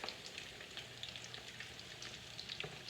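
Salmon croquettes fry in grease in a skillet, giving a quiet, close crackle of scattered pops and spits over an even hiss.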